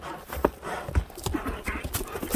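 Horse hooves clip-clop across open ground in a short, uneven run of distinct thuds, fairly close, with some faint background voices underneath.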